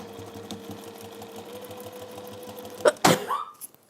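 A steady sewing machine hum runs throughout, then a sharp, loud sneeze bursts out near the end, followed by a brief fading breath.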